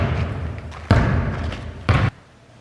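A ball drops onto the floor of a large abandoned Detroit intermediate school at night, giving two distinct thuds about a second apart over a low, hollow room tone.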